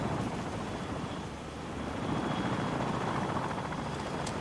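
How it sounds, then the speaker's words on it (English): Helicopter in the video game Call of Duty: Modern Warfare 2 during a team deathmatch, a steady droning rotor and engine roar that holds throughout, loud and close, with no talk. "I got killed by the helicopter?"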